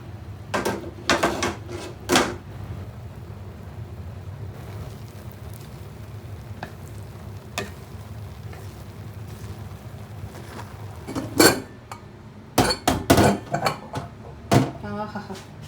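A pressure cooker of mutton biryani rice being opened: sharp metallic clanks and rattles of the lid and pot, a burst of several clatters near the start and another cluster later, over a steady background hum.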